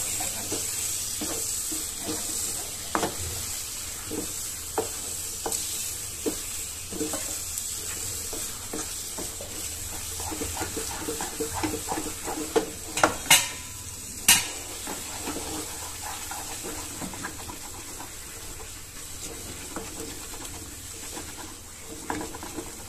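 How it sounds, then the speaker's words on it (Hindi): Sweet potato halwa with sugar is stirred in a pan, with a spoon scraping and clinking against the metal in a steady rhythm over a soft sizzle, plus a few sharper knocks near the middle. "अब इसको कर लेते हैं मिक्स।"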